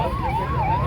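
An ambulance siren wails continuously and fairly loud, rising and falling in steady sweeps over a background of traffic and crowd noise at a lawyers' protest in Anantapur.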